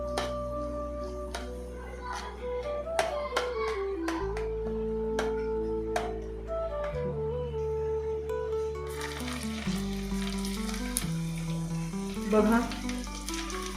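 Mustard seeds and dal fry in hot oil for a Bhokar (lasoda) pickle, a soft crackling sizzle that sits under a prominent musical backing, while a voice briefly speaks.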